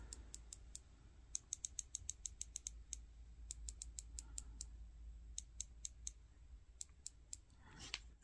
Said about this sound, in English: Very audible clicks.